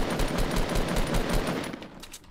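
Rapid gunfire from a weapon in Fortnite, a fast burst of repeated shots at close range that tapers off near the end, no talking.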